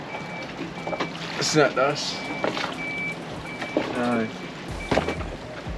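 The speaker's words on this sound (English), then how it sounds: "Something beeping." A steady, faint electronic beep repeats at an even pace in the background aboard a sailboat in the Mediterranean, continuing beneath people talking and some vehicle noise.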